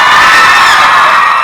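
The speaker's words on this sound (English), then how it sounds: "bigger cheer, see?" Crowd at a Harry Potter cast Q&A event cheering and shouting loudly, a dense, sustained roar of many voices with high-pitched whoops, close and continuous.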